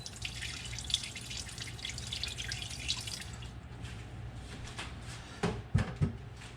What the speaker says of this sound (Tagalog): Lagyan natin ng tubig para magkaroon siya ng moisture.